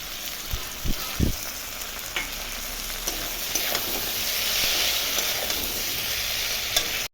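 A paste of ginger, cumin and chili fries with radish, potato and tomato in a pan. A loud, continuous sizzle builds after a few sharp knocks of a spoon near the start, and stirring scrapes run underneath.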